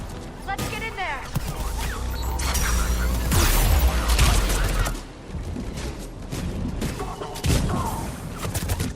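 Gunfire erupts at a checkpoint in Mass Effect 3: dense bursts of rapid shots, mechanical clatter and heavy booms pile up loudly, with voices shouting over the chaos.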